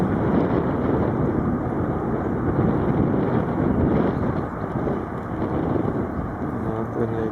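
Steady, heavy wind roar buffets the microphone throughout at an outdoor dressage competition, a dense broadband rush with only slight dips in strength.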